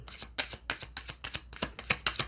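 Playing cards are shuffled in quick riffle bursts, about eight sharp crackling flurries in a steady rhythm, close and clear with no voices.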